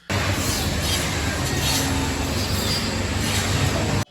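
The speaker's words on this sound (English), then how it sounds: "the factory normally sounds like this" Loud, steady industrial machinery roar fills a wood factory making Jenga blocks and wooden puzzles, a dense continuous rumble with grinding and clattering, cutting off abruptly at the end.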